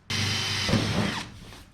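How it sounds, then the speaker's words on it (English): A power drill whines loudly for about a second, drilling a small hole in a 1977 Datsun, its pitch dropping as the bit bites into the material, then winds down to a stop. "Drill a little hole."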